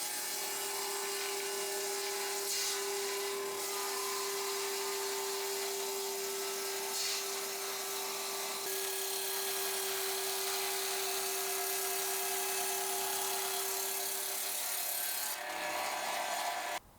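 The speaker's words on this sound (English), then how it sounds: "So I'm going to try and run that through the table saw to sort it out." A table saw rips through a pine pen block in one long, steady, loud cut with a strong tonal whine, holding for about fifteen seconds before the blade spins down.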